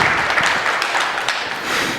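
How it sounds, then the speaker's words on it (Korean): A church congregation at Sunday worship claps together in a loud, dense burst that stays full and even, then eases slightly toward the end, with no voices over it. "우리 수고하신 모든 분들을 위해서 여러분들이 박수로 함께 격려해 주시면 감사하겠습니다."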